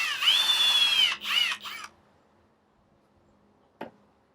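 A cordless power drill set to low torque whirs in two short bursts while backing out tiny screws on a Google Nest Hello doorbell, followed by quiet and a single faint click.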